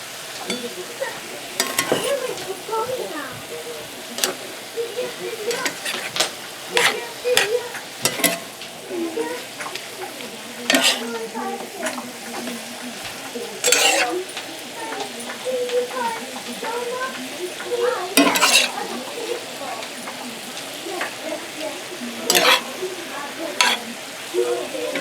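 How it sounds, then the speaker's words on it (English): Ground beef and vegetables sizzle in a pan for Sloppy Joes while a utensil stirs and scrapes, with repeated clattering strokes over a steady frying hiss and occasional talk. "we're going to go ahead and add our vegetables in. And we're going to mix it all up."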